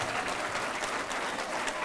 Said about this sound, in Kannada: ಈ ಚಪ್ಪಾಳೆ ಕೊಡಿ